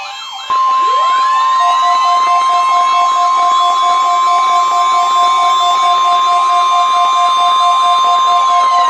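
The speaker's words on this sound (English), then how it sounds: "The attention signals you just heard will automatically activate special receivers to warn of the impending hazard." NOAA Weather Radio warning alarm attention signal, a loud, steady electronic tone that starts abruptly and holds unbroken for several seconds, alone with no voice.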